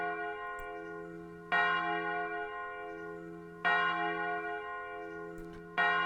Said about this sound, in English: Bells are so loud.